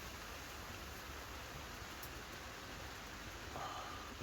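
Rain falls on a hot tent while winter wild camping in Scotland near Arrochar, a faint, steady hiss of drops pattering on fabric without speech.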